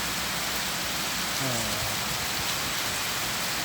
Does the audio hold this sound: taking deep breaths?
no